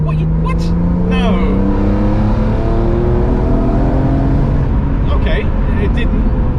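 A BMW E46 M3 CSL with SMG gearbox accelerating at full throttle, engine note climbing steadily and loudly from inside the car, with someone talking over it.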